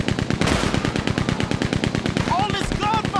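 Rapid, continuous Gatling gun fire in Red Dead Redemption 2 rattles loudly in a sustained burst, with a few short whistling tones near the end.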